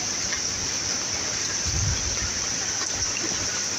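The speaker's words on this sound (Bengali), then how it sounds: "এই পূজার মধ্যে বৃষ্টি নামছে" Rain falling during the Puja festival in a village, a dense, even hiss that holds steady throughout with no voices.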